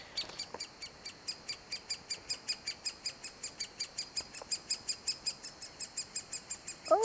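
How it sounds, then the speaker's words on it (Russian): A woodpecker chick calls from inside a tree hollow, giving a steady run of rhythmic, high, faint cheeps that repeat about three times a second, with a few other bird chirps nearby. "Маленький дятел из дупла зовет маму"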